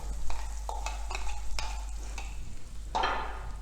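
Tomato paste with poppy seed, sesame and dry coconut sizzles in a pan for a Maharashtrian misal, with repeated scraping stirs and a low steady hiss, close and fairly quiet.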